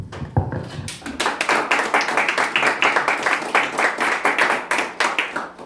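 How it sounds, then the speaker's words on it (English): A church congregation claps together for a mother at a Mother's Day service, a dense burst of hand claps that starts after a couple of separate claps and keeps going steadily to the end. "आइए अब इस मां के लिए तालियां बजाते हैं।"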